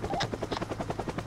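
A helicopter flies in the VR game Alpine Ski Resort, its rotor thumping in a steady, fast rhythm that stays loud and close for the whole moment, with no talking over it.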